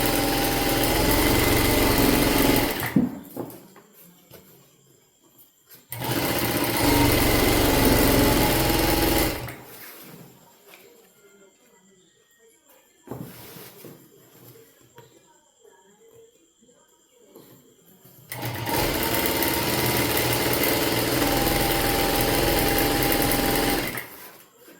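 A sewing machine stitches a skirt piece in loud, steady runs of whirring. The runs stop and start, with quiet gaps between them, and a person speaks during the pauses.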